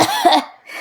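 A single short, sharp cough from a person, close and loud, with a faint trailing breath after it.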